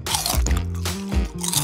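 Crunchy candy snack bitten and chewed in a giant-versus-tiny sweets eating challenge, giving several sharp crunching bites close up over a steady tonal backing.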